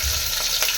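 Curry leaves crackle and sizzle loudly in hot oil for a plain rasam tempering, a dense continuous hiss with a slight pop partway through.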